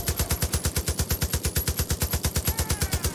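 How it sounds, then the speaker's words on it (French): An M60 machine gun in Far Cry: New Dawn fires one long, steady automatic burst, rapid evenly spaced loud shots running without a break. "Bah, je m'en fous, j'ai une M60 moi."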